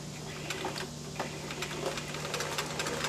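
A sewing machine stitches steadily across a square of fabric, a fairly quiet, continuous mechanical whir with fine rapid ticking running for the full few seconds, heard alone.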